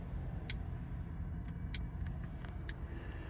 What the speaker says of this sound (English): On the button, straight into a smooth idle